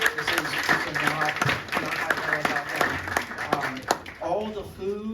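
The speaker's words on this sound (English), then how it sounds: "can we get a round of applause for them as well?" An audience at a Space Apps Seattle hackathon presentation event breaks into sustained applause, many hands clapping steadily over several seconds, while a voice talks over the crowd.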